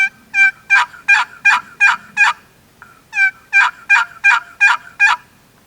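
An Esh Custom Calls wooden box turkey call yelps in two loud, close series of sharp, rhythmic notes, roughly six or seven strokes each, separated by a brief pause, with no talking.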